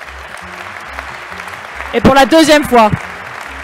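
Award-ceremony audience applauding: a soft, fairly distant patter of clapping, then a voice speaks loudly over it for about a second.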